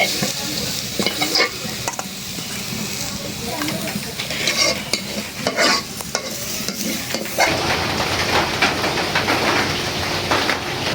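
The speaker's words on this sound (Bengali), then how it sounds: "ভাজা হয়ে গেল মূলা শাক" Radish greens with green chillies sizzle steadily as they fry in a pan, with repeated scraping and clattering of a spatula stirring them, close and fairly loud throughout.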